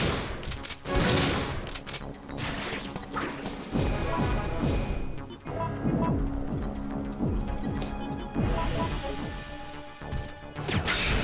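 Enhanced shotgun shells blasting in Resident Evil 3: Nemesis, with several loud, booming shots and crashing impacts spread through a busy game soundtrack.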